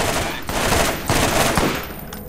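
A new assault rifle in Borderlands fires rapid bursts of loud, close gunfire in a dense rattling stream, with brief gaps between volleys.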